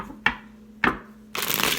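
Cards are riffled twice in quick crisp bursts, then a longer papery shuffle follows; close and fairly quiet, with no talking.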